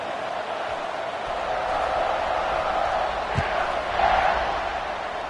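Football stadium crowd at a Georgia Tech vs Baylor game roaring steadily at kickoff, a broad continuous wash of cheering that swells slightly near the end.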